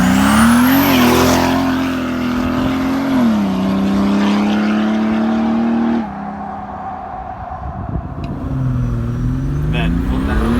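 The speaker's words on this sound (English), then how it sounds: "it's my G-Wagon, and it's putting down 450 horsepower to the tyre" A 450-horsepower Mercedes G-Wagon engine drives hard, its loud, close drone rising and settling through gear changes before easing off, with a person speaking over it.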